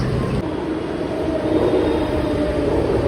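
Steady low rumble of a moving metro train, continuous and fairly loud, with a faint murmur of voices in the background.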